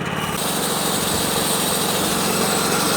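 A homemade sawmill's engine catches after a brief moment and settles into a loud, steady running drone that fills the rest of the short clip, close by with no talking.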